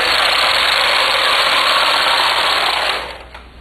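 A knitting machine carriage runs back across a row of a drop lace stole, making a loud, even whirring rasp that lasts several seconds and then quickly fades out.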